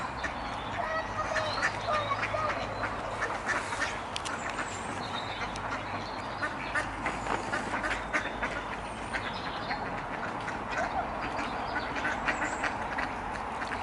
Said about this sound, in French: les enfants ils donnent à manger aux canards